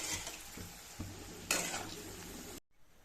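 Coriander vadi deep-frying in hot oil, a steady bright sizzle with a few utensil knocks and a louder burst of crackle partway through, cutting out abruptly near the end.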